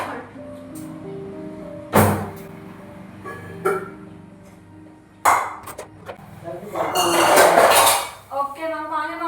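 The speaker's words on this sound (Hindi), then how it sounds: "धोए थे ये बर्तन क्योंकि बहुत ज़्यादा बर्तन हो गए थे फिर से शाम को" Pots, pans and utensils being washed clatter and clink in irregular bursts, with sharp metallic pings and a longer rattling stretch near the end, and a voice heard now and then.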